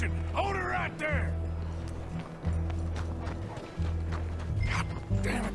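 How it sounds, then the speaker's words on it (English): Hoofbeats of a horse clip-clopping in the video game Red Dead Redemption 2, fairly close and steady over a low rumbling game score, with voices talking over parts of it. "I don't think this is my horse, but we're taking it."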